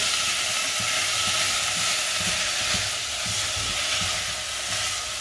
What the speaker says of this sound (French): on met le thon et on mélange. On mélange bien avec nos petits oignons